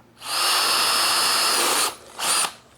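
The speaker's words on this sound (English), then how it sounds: "Here is another hole cutter, and we'll show you how to work it." A power drill with a hole saw whines steadily at high speed into wood for nearly two seconds, stops briefly, then runs again in a short burst, close and loud.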